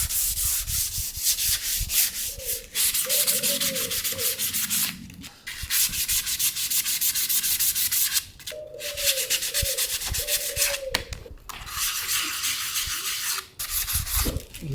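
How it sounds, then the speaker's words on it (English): Hand sanding on wood for a camper van build: steady rhythmic back-and-forth rasping strokes, close and loud, repeating without pause through most of the stretch with a few short breaks. "Now all I need to do is sand this down."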